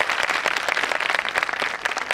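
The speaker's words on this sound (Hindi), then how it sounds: "एक बार जोर से ताली बजाओ" An audience at a medical scientific conference session claps briskly and loudly together for a couple of seconds, a dense, even burst of many hands.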